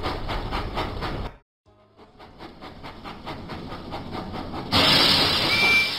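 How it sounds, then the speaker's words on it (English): Rhythmic chuffing of a steam engine in a Thomas & Friends video game, a brief pause, then steady puffing resumes before a louder burst of hissing steam near the end. "Percy puffed proudly into Knapford Station."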